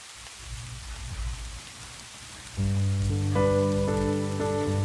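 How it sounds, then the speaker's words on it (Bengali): A storm outside brings steady rain and a rumble of thunder, heard alone at first. Then sustained musical tones enter and continue over the rain. "স্যার বাইরে খুব ঝড় উঠেছে"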